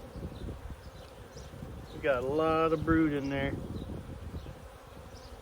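Honeybees buzz steadily around a hive in Missouri, a soft continuous drone, while someone speaks briefly up close.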